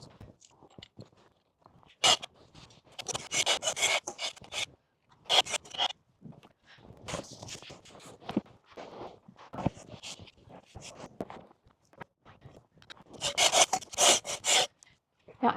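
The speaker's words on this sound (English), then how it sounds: "Now I'm giving everything kind of a scrape first" Tools scrape seed heads off garden hardscaping in a neglected bed during January pruning, making repeated rough rasping strokes in bursts, close and fairly loud with short pauses between passes.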